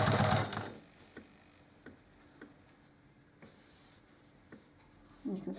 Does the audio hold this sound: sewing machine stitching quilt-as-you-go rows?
yes